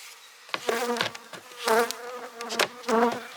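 Honey bees buzz up close at an opened hive during honey harvest, rising and falling in loud swells, with several overlapping droning bursts.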